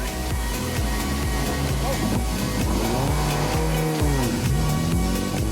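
Race cars, including a Ford Focus silhouette car, roar past at Assen circuit during a Supercar Challenge race, loud sustained engine noise with shifting pitch sweeps and a commentator speaking over it.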